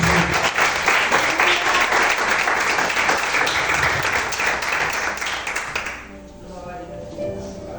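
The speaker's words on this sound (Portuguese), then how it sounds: "Aplauda o Senhor amado." A church congregation claps steadily and loudly for about six seconds, a dense, sustained wash of applause that stops abruptly, leaving quieter room sound and a faint voice.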